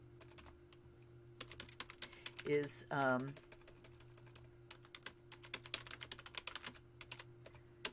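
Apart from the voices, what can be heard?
typing on a computer keyboard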